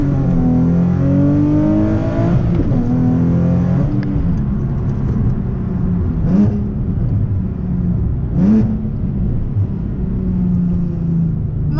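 A car engine revs hard and accelerates through several gear shifts, exhaust droning loudly and close throughout.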